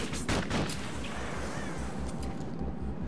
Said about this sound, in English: So now they're shooting at me.